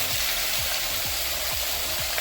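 Beef sizzles steadily in about half a cup of hot cooking oil, a dense continuous frying hiss with soft rhythmic stirring scrapes repeating roughly every half second.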